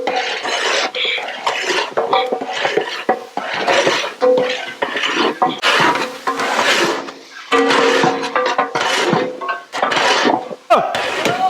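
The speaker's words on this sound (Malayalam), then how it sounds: "ഈ പൊടിയൊന്നേ നന്നായിട്ട് പച്ചമണം മാറുന്നവരെ നമുക്കൊന്ന് ഇളക്കി മിക്സ് ചെയ്ത് കൊടുക്കാം" Heavy stirring of 4 kg of coriander powder into a huge pot of buffalo meat curry: steady scraping and clanking of a large ladle against metal, continuous and close, with faint voices in the background.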